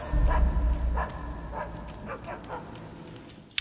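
A dog in the video game Assassin's Creed Chronicles: China lets out a run of short, yipping barks and whimpers at moderate loudness over a low rumble that fades early on.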